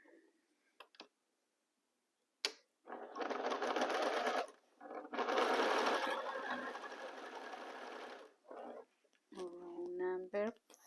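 A sewing machine stitches fabric rows for a frame-within-a-frame quilt block in two steady buzzing runs of a few seconds each, close by, with short pauses and brief handling sounds between them and a voice at the end.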